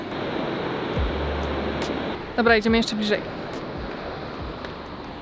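Roar of the Rhine Falls, a huge waterfall on the Rhine in Europe, heard as a loud, steady broadband rush under wind, with someone speaking briefly midway.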